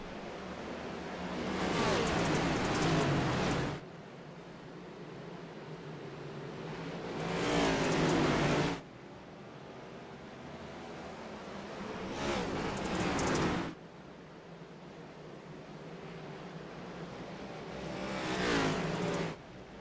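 Simulated stock race cars circle Bristol Motor Speedway in a racing video game, engines swelling as packs roar past in repeated waves roughly every five seconds, then dropping back to a lower drone between passes.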